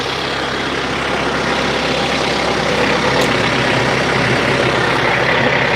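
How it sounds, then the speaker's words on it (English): A tractor engine works hard to pull a bent post from the ground, a loud, steady heavy rumble running throughout without pause. "We upgraded to this tractor last year."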